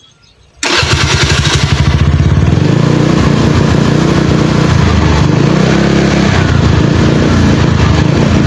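A motorcycle engine still misfiring after its spark plug and cap were cleaned and refitted. It catches abruptly after a moment of near silence, then runs loud and close with uneven, surging revs.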